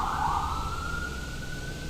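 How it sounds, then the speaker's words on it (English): An ambulance siren wails steadily at close range, its pitch sliding smoothly downward as it passes, over low traffic rumble. "hold on here, we've got a"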